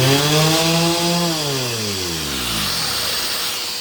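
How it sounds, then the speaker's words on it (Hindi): Electric sander and wet-dry vacuum cleaner switch on together, a loud motor whine with a harmonic pitch sweep, then settle into a steady, close, roaring hum with no talk. "जैसे अपना सेंडर ऑन करूंगा, वैक्यूम से कोई लेना देना नहीं है मेरा, उसके साथ ही एकदम से वैक्यूम ऑन हो जाएगा।"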